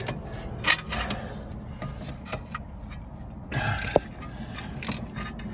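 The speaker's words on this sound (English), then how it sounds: "We'll use a ratchet on it now." Ratchet wrench clicking as it turns an 18 mm bolt on the lower ball joint of a 2.0L D4D Toyota Avensis T270, close up, with short bursts of mechanical ticking and a sharp metallic knock near the end.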